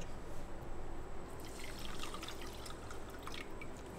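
About half a cup of water is poured into a pan holding half a cup of sugar, a steady close trickle and splash with brief dripping and no talking.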